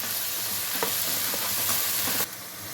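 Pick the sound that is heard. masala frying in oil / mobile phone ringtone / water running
masala frying in oil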